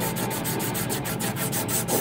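Fast, steady back-and-forth rasping of sandpaper on a wooden billiard pipe during quick finishing, a dense rhythmic scratch of roughly six strokes per second, close and continuous with no talking.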